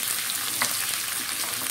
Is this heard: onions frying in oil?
yes